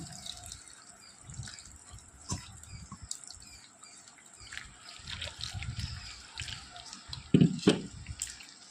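Water trickles and drips a little at a time into a papad batter of ground borax and salt being mixed by hand, with soft wet patters and a louder splash near the end, close and without speech.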